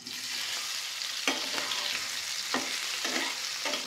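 Boiled potato sizzles as it fries in hot oil with chillies and curry leaves for sabudana khichdi, a steady bright crackle broken by several spoon scrapes as it is stirred.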